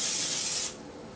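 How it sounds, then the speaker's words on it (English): Cooking spray hisses from a can onto a glass baking tray for cookies in one loud, steady burst of under a second that then cuts off, heard close up and alone. "So, spray it with Pam."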